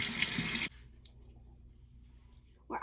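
Tap water runs loudly onto a sand-covered balloon being rinsed, a brief gushing burst that stops abruptly, followed by near silence with a faint drip and a short splash near the end.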